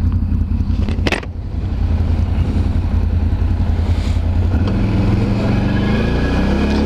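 A Can-Am Renegade 1000 ATV engine runs loud and close outdoors in Belgium, a continuous low rumbling drone with a brief sharp noise just after the first second and a slight rise in pitch toward the end.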